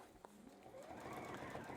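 A sewing machine runs a steady, quiet stitch along the strap of a fabric chef hat, starting after a brief click and continuing as a fast, even whir.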